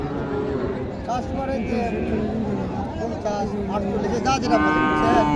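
Cattle moo repeatedly at a busy rural cattle market, several drawn-out lowing calls near and farther off over a steady hubbub of crowd chatter and bargaining voices.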